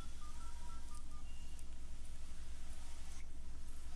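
Keypad tones from a Samsung Champ phone sound as several short, faint beeps in a quick series over a constant low hum.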